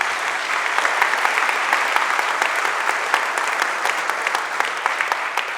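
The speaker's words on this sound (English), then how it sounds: "I was just applauding the implementation of a new consumer agency" Audience applause at a political rally with Senator Elizabeth Warren, a dense, loud, sustained wash of clapping from a large crowd, steady throughout with no voices rising above it.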